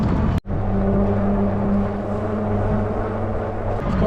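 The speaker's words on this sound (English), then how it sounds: "of course on a fat tire bike, it's pretty loud as far as the tires go." Fat tires of a Hovsco HovAlpha electric bike rolling, a loud steady droning hum with low tonal lines that continues unbroken after a brief dropout at the start.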